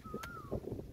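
A single clear whistled bird call in rural Laguna, Philippines, a rising then steady tone lasting about half a second, heard over faint background noise.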